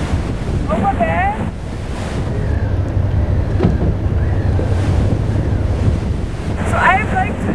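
Waves wash onto the North Sea shore near Rotterdam under strong, steady wind buffeting the microphone. The surf roars continuously and loudly, and brief voice-like sounds rise near the start and end.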